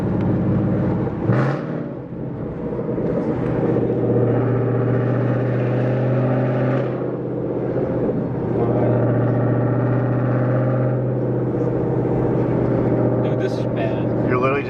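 A Ford Mustang GT with a Roush axle-back resonator delete drones loudly while cruising, its deep exhaust note rising and falling steadily inside the cabin, with a person talking over it.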